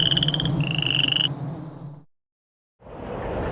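A chorus of frogs croaks in rapid pulsing trills, fairly loud and close, breaking off into a short silence before the croaking chorus swells back in.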